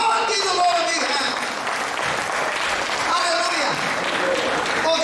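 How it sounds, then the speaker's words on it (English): Church congregation clapping and applauding together in a dense, steady wash of hands lasting several seconds, with scattered voices and cheers mixed in. "Come on, give the Lord a big hand."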